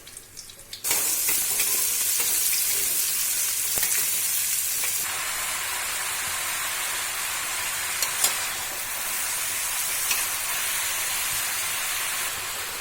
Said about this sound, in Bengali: এবার কালো জিরা আর কাঁচা লঙ্কা ফোড়ন দিয়ে তরকারিগুলো দিয়ে দেওয়া হচ্ছে।